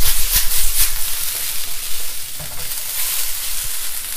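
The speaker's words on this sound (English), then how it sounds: "Make sure it all spreads out so that there's no lumps in the fry rice." Chicken fried rice being stir-fried and spread out to break up lumps makes a loud, continuous sizzle, with rough scraping and tossing bursts throughout.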